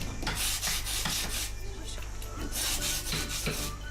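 A jigsaw cuts wood at a pearl shell handicraft workshop in Hoi An, giving a steady rasping, rubbing buzz with rhythmic strokes that runs the whole time against a constant low hum.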